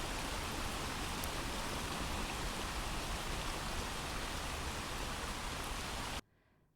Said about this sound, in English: And the last track is the raining sound.